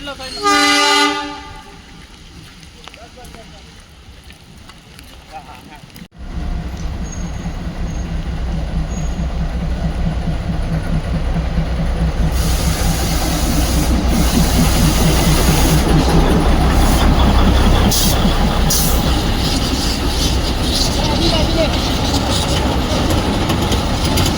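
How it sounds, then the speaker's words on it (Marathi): A short horn toot, then a toy train near Matheran rumbles by close and steadily grows louder, a heavy continuous roar with rattling, briefly under a voice. "या ट्रेन गाईज ट्रेन हे बघा."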